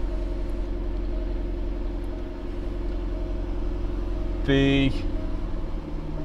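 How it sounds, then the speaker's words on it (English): A car with a switchable sports exhaust turned on runs steadily, giving a deep, even engine rumble close by; a short voice breaks in near the end. "As you can hear, it's got the sports exhaust, switchable sports exhaust,"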